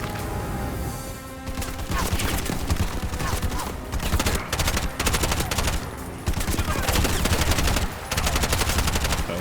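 Dense automatic gunfire from all directions in the shooter game Bright Memory Infinite, running in rapid, loud, continuous bursts across the whole stretch with only short dips between volleys.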